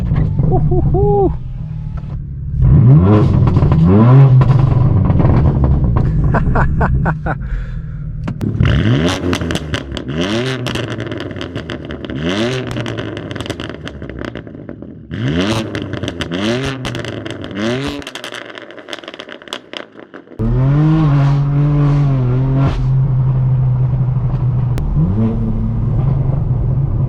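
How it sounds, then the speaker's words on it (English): A straight-piped BMW M4 F82 accelerates hard on a canyon road, its loud exhaust rising through repeated revving pulls with brief gear-shift dips and crackles between them, heard from inside the car. "today we're going to be taking my straight pipe BMW M4 on a POV drive"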